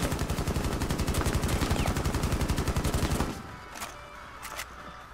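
Rapid automatic gunfire in Rainbow Six Siege rattles loudly in a steady stream for about three seconds, then stops, followed by a couple of faint distant shots.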